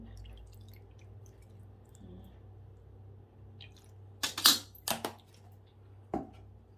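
Salad dressing is spooned onto a Thai-style potato salad: a quiet stretch, then a quick cluster of wet squishes and plops, and one final soft splat a moment later, close and alone.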